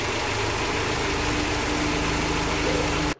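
A Mercedes engine with KE-Jetronic fuel injection idling steadily and loudly at close range with a constant hum, cutting off abruptly at the end.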